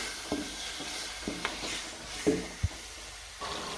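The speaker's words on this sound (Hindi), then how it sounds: "चने और मसाला बड़ा अच्छा सा भुन चुका है" Chickpeas and spices stir-fried in a pot for chana pulao, giving a soft low sizzle broken by a few spoon scrapes and knocks against the pot.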